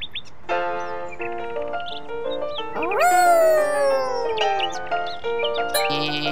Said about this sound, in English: Birds attract Groovy's attention.